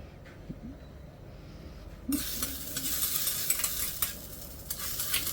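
Coriander and ginger hit hot ghee in a tadka for Delhi-style chole: after a quiet start, a loud, steady sizzle bursts in partway through and keeps crackling close up to the end.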